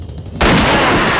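A gun fires in a comic village scene, one abrupt loud blast that cuts in and rings on with a dense, sustained burst to the end.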